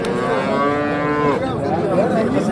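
A cow moos loudly in a long, drawn-out low, then gives a shorter second call, over a busy background murmur of a livestock market in Kattakurgan.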